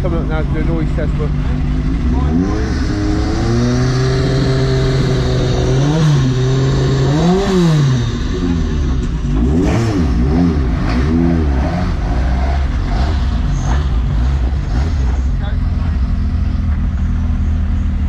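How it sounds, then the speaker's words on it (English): Racing pickup trucks rev their engines one after another for a noise test at Snetterton Circuit. The engines roar loudly and continuously, with rising and falling revs and no pause, for about eighteen seconds. "So everyone's coming up now to do a noise test,"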